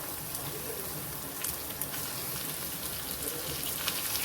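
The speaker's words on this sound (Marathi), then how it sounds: "ह्याच्यात काय करायचं आपल्याला भाजी घालून घ्यायची आहे चिरलेली" Chopped red amaranth greens tumble into a hot kadhai, giving a steady, dense hiss of sizzling that holds evenly throughout with a few faint crackles and no speech.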